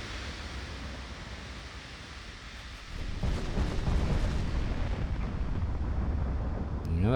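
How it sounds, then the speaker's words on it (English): Naval artillery fires armour-piercing shells in a 1933-era warship strategy game, producing a steady low roar that swells into a louder, rumbling barrage partway through, with no voices heard. "Yeah, they're firing AP now."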